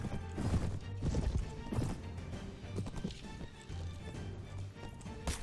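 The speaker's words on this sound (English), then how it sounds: "Let's try to keep this horse alive." Horse hooves clip-clopping at a gallop with a whinny, amid battle noise in the medieval combat game Mount & Blade: Warband, played loud and steady across the scene.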